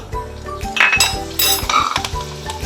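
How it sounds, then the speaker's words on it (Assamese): Fenugreek seeds crackle and splutter in hot oil, with a few metal clinks from the pan and steady background music throughout. "এই মিঠিখিনি দিতে গুটি ফুটিছে"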